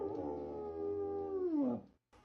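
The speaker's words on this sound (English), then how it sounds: "Yo, that little dog, you better get out of here." Dog howl from a video game: one long, loud, sustained wail that slides downward at the end and cuts off, followed by a brief quiet gap and a faint noise.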